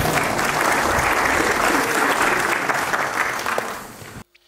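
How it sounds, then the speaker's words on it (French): An audience at a history lecture on the Cathar wars applauds steadily for about four seconds before the clapping stops abruptly and the room falls quiet. "on peut l'applaudir"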